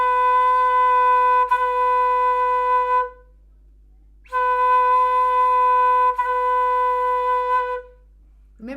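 Two sustained flute notes, each held about three seconds with a clean tongued start and a soft release, separated by a short silence and played solo up close.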